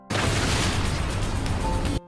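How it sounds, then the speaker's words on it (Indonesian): A police car explodes in a filmed action scene, a loud, dense blast that holds steady for about two seconds and then cuts off abruptly, with no voices over it. "Sedangkan mobil polisi itu meledak."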